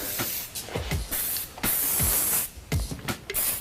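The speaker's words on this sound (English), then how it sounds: "And then with some hairspray," Hairspray hisses onto pinned curls in several short bursts, each spray a sharp airy hiss separated by quiet gaps, close and fairly loud.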